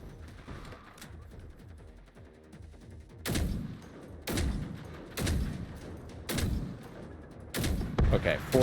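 Gunfire from the video game Generation Zero, a series of sharp heavy shots and booms spaced about a second apart over a busy, murky game background.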